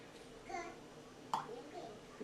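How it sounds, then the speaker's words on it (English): Children's voices chatter and babble faintly in the background of a home kitchen, soft intermittent child speech with a brief louder exclamation midway. "sorry, you might hear my kids in the background"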